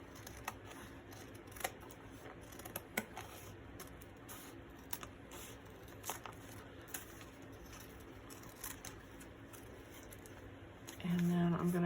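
Scissors snip through paper for a journal pocket in a run of quick, close crisp cuts at an uneven rhythm, fairly faint against a quiet room, with no talking.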